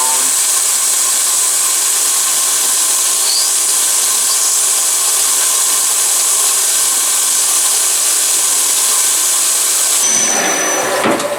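A PM727MXL milling machine runs a boring operation for M4 screw holes in a Y-axis bearing block, giving a loud, steady broadband whir that holds constant and then shifts near the end.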